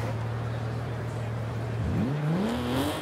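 A 2019 Nissan 370Z Nismo in Forza Horizon 5 drones at a steady idle-like pitch, then revs up with a swooping climb, loud and continuous with no talk over it.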